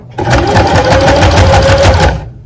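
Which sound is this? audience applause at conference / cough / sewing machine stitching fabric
sewing machine stitching fabric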